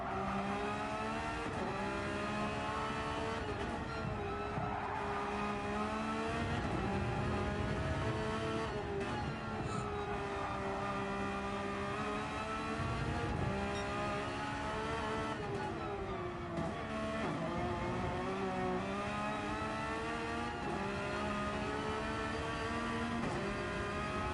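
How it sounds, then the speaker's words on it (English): Video game racing car engine whines continuously with shifting pitch as the tires squeal through corners in qualifying, loud and sustained for the whole stretch. "You can hear the wheels screaming out beneath her as she's forcing it to the limit."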